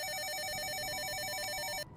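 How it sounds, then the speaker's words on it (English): Telephone ringing in a game, a rapid warbling electronic trill repeating steadily and loud for almost two seconds before cutting off abruptly. "The phone is ringing."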